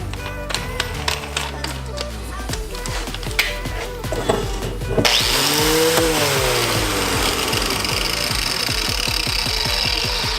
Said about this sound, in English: Then we'll finish it off with a sanding wheel.